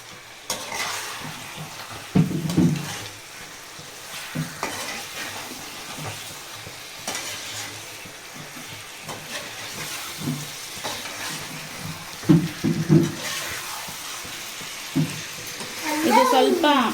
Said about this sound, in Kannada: ಇವಾಗ ಫ್ಲೇಮ್ ಜೋರು ಮಾಡಿಕೊಂಡು ಚೆನ್ನಾಗಿದ್ದು ಫ್ರೈ ಮಾಡ್ಕೊಳ್ಳೋಣ.